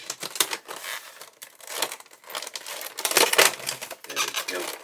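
A cardboard package for a Hachette Avro Lancaster B.III Dambuster model kit is cut open, giving close, irregular bursts of crinkling, scraping and tearing across the whole stretch, with a voice speaking alongside.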